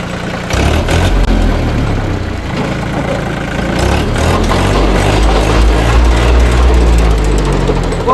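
A tractor's engine runs steadily and loud close by, a continuous low mechanical rumble with a rough, clattering texture and no talk over it.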